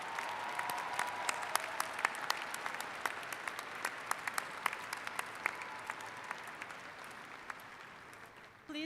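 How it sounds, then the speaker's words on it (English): An audience at a commencement ceremony applauds steadily, a dense sustained wash of clapping from a large crowd with sharper individual claps standing out, fading slightly toward the end. "let's applaud these fabulous people."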